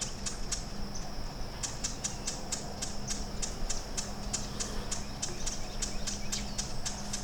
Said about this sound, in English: What type of bird is that?